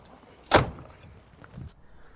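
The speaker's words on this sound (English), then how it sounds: "opening the door fully, 3 points of contact, and out of the vehicle we go" A vehicle door opens with a single sharp clunk of the latch, followed by a softer thud about a second later, close by in a quiet setting.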